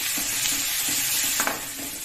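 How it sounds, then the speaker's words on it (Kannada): Green chili paste with ginger and garlic frying in hot tempering oil, a steady close sizzle throughout with a few soft stirring scrapes and no talking. "ಇದನ್ನು ನೀವು ಒಗ್ಗರಣೆಲ್ಲೇ ಹಾಕಿ ಫ್ರೈ ಮಾಡ್ಕೋಬೇಕಾಗತ್ತೆ"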